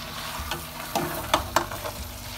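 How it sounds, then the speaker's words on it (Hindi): Mushrooms and softened peas for matar mushroom sabji sizzle steadily in a pan, with several sharp scraping knocks as a spoon stirs them, close and with no voices. "इस स्टेज में इसमें डाल देते हैं मशरूम और इन्हें अच्छे से मिक्स कर लेंगे"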